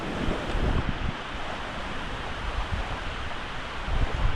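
Nolichucky River rushing beneath Chestoa Bridge near Erwin, Tennessee, a constant loud roar of moving water mixed with gusty wind buffeting the microphone, with no speech.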